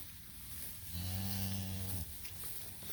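A calf in a grazing cattle herd lets out one clear, drawn-out moo lasting about a second, close and prominent over a steady outdoor background hiss.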